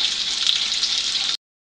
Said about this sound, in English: you can hear them sizzling, and they're in that luscious oil or grease